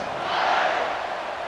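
A stadium crowd buzzing after a score in the College Football 26 video game, a dense, sustained roar that swells slightly and holds steady.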